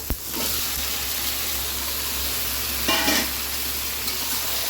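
Continuous close sizzle of chicken frying in a pan with fried onion and tomato, with a sharp clank at the start and a louder burst of stirring midway.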